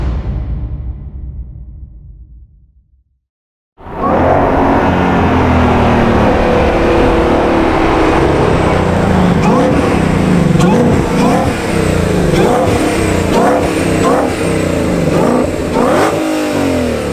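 After a fade to near silence, a 2020 Ford Shelby GT500 engine roars in close and loud, throbbing with repeated rev bursts and sharp throttle blips over a constant heavy rumble.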